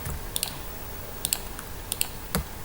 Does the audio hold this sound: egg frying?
no